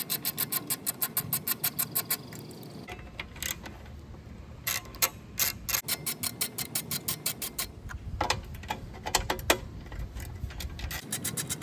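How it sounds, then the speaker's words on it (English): A plastic cover and recoil starter assembly being removed from a Troy-Bilt lawn mower engine gives close, rapid ratcheting clicks in steady runs, broken by brief pauses and a few louder knocks and scrapes. "I'll start by removing this plastic cover and recoil assembly that's underneath it"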